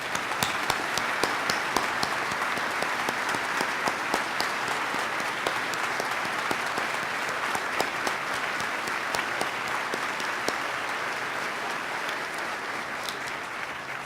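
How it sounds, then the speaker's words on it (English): Sustained applause from a large audience at a governor's State of the State address fills the hall, dense and steady throughout with no speech over it. "Please join me in another round of applause for the Ciparini and Kachuvka families."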